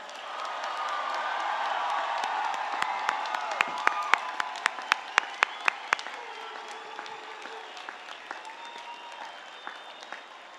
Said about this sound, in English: how about we start with another round of applause for the class of 2023